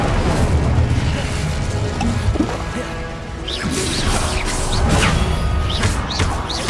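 The Incendio fire spell is cast in the video game Hogwarts Legacy, producing loud booming magic blasts and crashes amid continuous combat effects, with whooshing bursts layered throughout.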